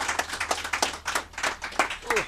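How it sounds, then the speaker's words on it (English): Loud, close hand clapping from a single person in a quick, slightly uneven rhythm of about a dozen sharp claps, with a faint voice briefly heard near the end. "I just realized I clap really loud"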